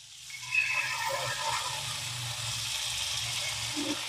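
Paneer dropped into hot butter in a pan, a soft, steady sizzle that starts with a brief burst and then continues quietly and evenly.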